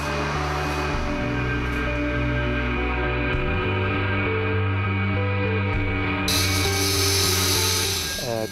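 Drilling 25 mm injection holes into the ground beside a chalet being lifted in Lauenen, a steady, loud motorised drone with a constant low hum, a brief pitch shift midway and a brighter whine in the final seconds.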